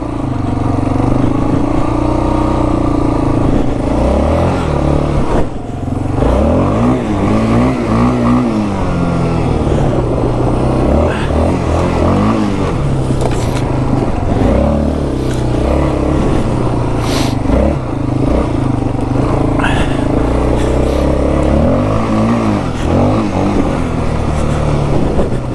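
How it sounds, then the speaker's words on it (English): A Yamaha Warrior 350 ATV, carburetor just rebuilt, runs in snow at about 5 degrees, its engine loud and close with a steady rough drone and repeated revs rising and falling throughout. "bike seems to be running pretty darn good."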